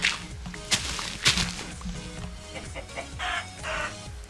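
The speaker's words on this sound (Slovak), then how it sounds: "Tu je ešte sliepka. Takže zabijem sliepku." A chicken in the video game Minecraft clucks in short bursts among clicky block-breaking and footstep sounds, moderately loud and with no talking.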